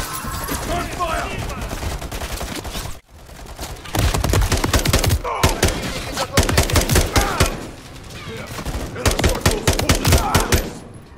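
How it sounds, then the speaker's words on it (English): Rapid bursts of machine gun fire in Call of Duty Modern Warfare 3, long sustained volleys broken by short pauses, loud and close. "Gunfire!"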